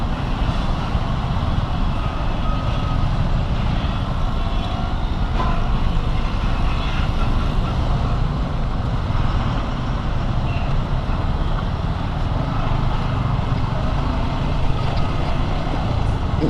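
Heavy road traffic with trucks in Salem rumbles continuously, a dense wash of engine noise and road roar heard from a moving motorbike, with occasional faint horns and mechanical sounds within the steady din.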